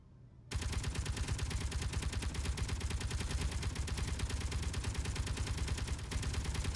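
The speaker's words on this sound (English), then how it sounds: "Okay, here comes that gravity cannon." A gravity cannon fires in a space combat video game, a steady rapid stream of loud, even gunfire-like pulses starting abruptly and continuing without pause, with no talk.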